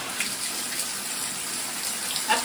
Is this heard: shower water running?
yes